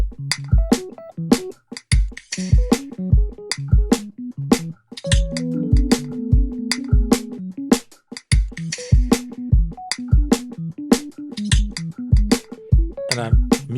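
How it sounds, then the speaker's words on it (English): A bright Rhodes electric piano plays a steady, rippling arpeggio in B Dorian of quick repeating notes, with a few held chords woven through, close and clear with no talking. "Locked the scale in at B Dorian and played some arpeggiation"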